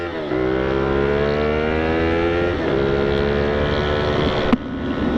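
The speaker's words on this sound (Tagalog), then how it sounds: "Ganyan kalakas ang arangkada ng GPR." A GPR250 V2 motorcycle accelerates hard with a loud, close engine roar that climbs steadily in pitch, drops briefly at a gear change, then rises again.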